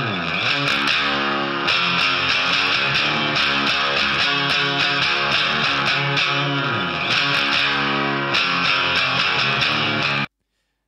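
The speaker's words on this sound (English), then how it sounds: "another Telecaster riff over the top that kind of emphasizes the harmonic major of the third" A distorted Telecaster riff plays steadily and loudly, its repeated picked notes layered with effects, before cutting off abruptly at the end.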